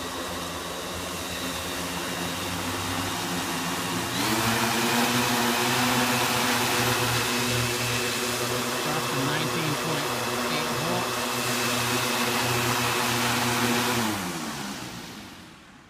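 The motors of an Align M690L hexacopter drone spin up to quarter throttle, a loud steady electric whine with layered droning tones that rises a step partway through, then cuts out near the end, with brief speech.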